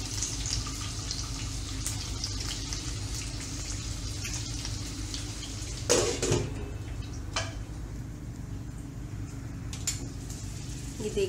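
Stuffed capsicum cooks covered in a pan, a soft steady sizzle with a faint watery hiss, broken by a few clinks of a lid or utensil.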